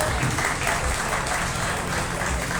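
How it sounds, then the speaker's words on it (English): Audience applause fills a county fair swine show arena after a heavyweight class, a dense steady wash of clapping at close range with low rumble underneath, holding level throughout. "give them a nice round of applause"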